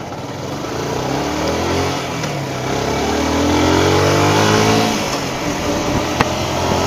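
A rider's motorcycle engine hums steadily while riding, rising and falling in pitch as it revs through gears, with wind rush over it; near, loud and continuous, no talk.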